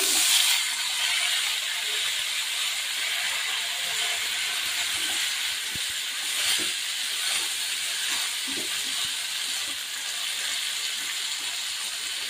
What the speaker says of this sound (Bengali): এখন আমি কেটে রাখা আলুটা দিয়ে দেবো খোসা সমেত